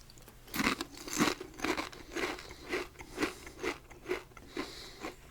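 Doritos chips crunch in slow, regular bites, about nine crisp snaps spaced under a second apart, close-miked and soft in an ASMR-style setting.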